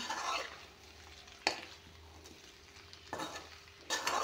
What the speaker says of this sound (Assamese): অমিতা ভাজিখিনিৰ লগত একেলগে মাংসখিনি ভালকৈ ভাজি ল'লোঁ।